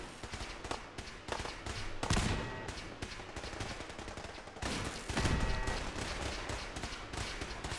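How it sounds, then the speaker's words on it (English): Rapid, loud automatic gunfire in Fallout 4 as turrets are shot and blown up, dense bursts of shots rattling nonstop with heavier blasts near the middle and toward the end. "I think that's turrets getting blown up, unfortunately."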